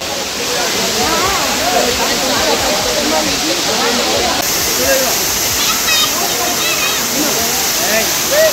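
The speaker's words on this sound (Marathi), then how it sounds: "वरतून यामधून येणारं पाणी हे खूप चविष्ट आणि क्लीन होतं." Water pours from above at Patalganga in Tirumala, a steady, loud rushing roar with constant splashing throughout, while voices murmur faintly beneath it.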